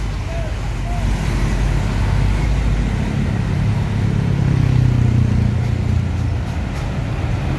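A Haryanto Skylander bus rolls by in busy road traffic, its steady engine rumble blending with the continuous roar of surrounding vehicles, moderately loud and without any voices.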